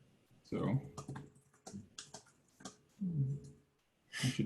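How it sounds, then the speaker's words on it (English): Quick clicks of typing on a computer keyboard come in short bursts, close and fairly quiet, mixed with a person talking and some breathing. "I should really be just typing into this document."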